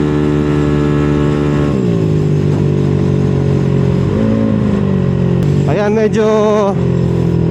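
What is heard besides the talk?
motorcycle engine being revved hard during break-in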